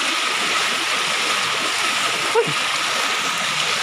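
Floodwater flows from a road toward a highway in Barangay San Pedro, Duero, Bohol, a steady broadband rush of moving water heard close and unbroken, with a brief splash near the middle.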